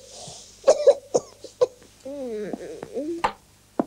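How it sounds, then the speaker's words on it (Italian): Several harsh child coughs in quick succession from a cough syrup TV advert, followed by bright musical jingle tones and a short sting. "Se tuo figlio tossisce durante la notte, prova Fluprim."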